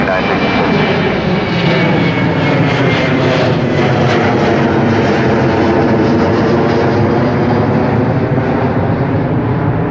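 A Boeing 747-8 jet makes a crosswind landing on runway 10C at Chicago O'Hare Airport, its engines producing a loud, continuous, close roar that holds steady throughout.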